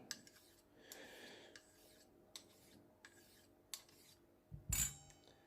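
A straight razor is honed on a sharpening stone with light pressure to refine a repaired bevel, making faint, close rasping strokes at regular intervals, followed by a louder knock near the end.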